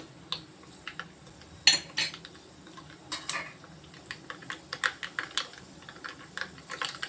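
Mustard seeds splutter and pop in hot oil while making a dried fish curry, sharp irregular crackles coming in quick bursts, close by, with no talking.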